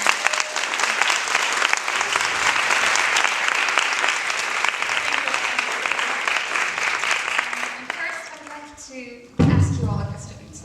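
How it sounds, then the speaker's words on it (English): Audience applause for a filmmaker at an experimental animation screening, a dense steady round of clapping that fades after about eight seconds as a voice begins speaking. "let's give a round of applause for her"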